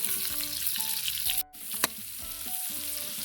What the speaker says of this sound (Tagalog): Bigisa na tayo. Lagay tayo ng bawang,